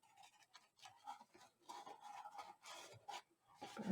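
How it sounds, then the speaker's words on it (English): Paper is rubbed firmly down onto a handmade Graphic 45 craft book box, producing a series of short, close, dry scraping strokes in an uneven rhythm that grow louder toward the end. "Burnish it down."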